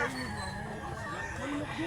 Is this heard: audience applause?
no